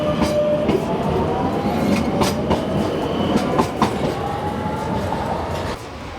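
A Circumvesuviana commuter train near Naples rolls along the rails with a continuous rumble and rhythmic clicks of wheels over joints, loud and close, with faint squeals.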